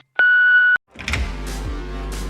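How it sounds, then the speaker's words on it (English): A single sustained electronic answering-machine beep, a clean steady tone lasting about half a second, followed by a brief silence and then a rumbling engine-like background with faint clicks. "leave your message after the beep"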